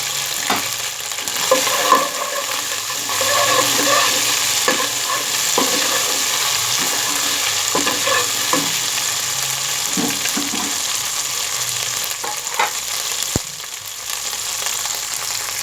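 Whole garam masala spices sizzle in hot oil with onions and ginger-garlic paste for matar pulao, a steady close frying hiss broken by clicks of stirring, with no talking.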